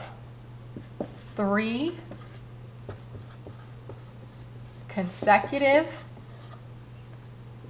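A math problem being written out by hand, with faint scratchy strokes and taps running under a person talking nearby.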